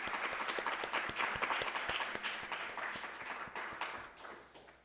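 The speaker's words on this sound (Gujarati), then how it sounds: "એકવાર ફરીથી આપણે શનિભાઈ માટે જોરદાર તાળીઓ પાડીએ" Applause from a gathered congregation at a weekly Hindu sabha celebrating Ram Navami and Hari Jayanti, offered for Shanibhai: steady, dense clapping that fills the whole stretch and slowly thins and fades toward the end, with no voices over it.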